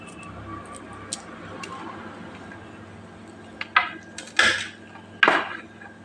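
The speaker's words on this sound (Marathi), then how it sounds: "त्याच्यासाठी ह्या मिरच्यात चिरून घेते ह्या अशा उभ्या चिरून घ्यायच्या आहेत" Green chillies are slit lengthwise with a knife, giving a few sharp taps and scraping clicks against a board, sparse at first and then three louder strokes close together near the end.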